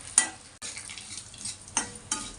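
Tempering for pulihora stirred and frying in a pan, a steady soft sizzle with a few sharper scraping strokes of the spoon, close and moderately quiet, no talking.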